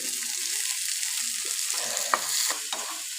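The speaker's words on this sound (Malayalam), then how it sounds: "എണ്ണ അടുപ്പിൽ വെച്ച് കടുകിട്ടു കേട്ടോ" Mustard seeds splutter in hot oil in a pan on the stove, a crisp sizzling hiss dotted with a few sharp pops and crackles, close and without talk.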